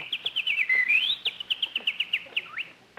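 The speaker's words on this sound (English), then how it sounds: "Oh, Jack, look at that beautiful bird on your lawn." Radio sound-effect bird chirping on a lawn, a rapid series of bright, clear whistled tweets with a sliding trill in the middle, close and prominent with no talk over it.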